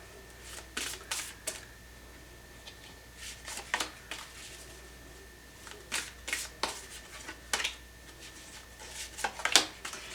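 Oracle cards being shuffled by hand, a soft series of quick riffling and flicking bursts at an uneven rhythm, close and fairly quiet.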